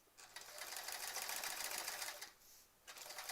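A sewing machine doing free motion quilting on a sampler quilt, running in a fast, even mechanical stitching burst for about two seconds, pausing briefly and then starting again, faint and close.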